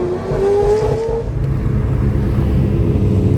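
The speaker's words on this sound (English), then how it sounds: "Just very special cars driving all over the place." Exotic sports cars, including Koenigseggs, driving along Ocean Avenue, with a loud, close engine rumble and a brief rising rev as one accelerates past, no talking.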